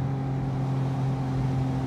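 Porsche 718 Spyder RS engine held around 6,000 RPM through a corner, a steady, loud droning note with strong low harmonics that stays constant throughout, no speech over it.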